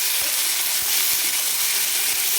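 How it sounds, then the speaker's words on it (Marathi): Tomatoes with a little salt sizzle and fry steadily in an iron kadhai, with a few soft stirring knocks from the spoon at intervals under a continuous hiss. "तर हे टोमॅटो नरम होण्यासाठी थोडंसं मीठ टाकू आपण आणि मिक्स करून घ्यायचं छान"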